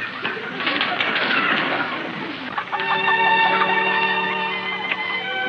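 Chickens cluck and murmur in a busy coop, a steady low chatter of hens that continues throughout, with no one speaking over it.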